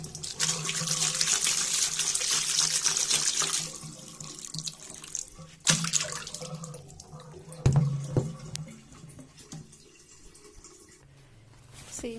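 A paper bowl is rinsed under a running tap, with a steady stream of water hissing into the sink. The flow then breaks into splashes, drips and handling knocks as the water eases off.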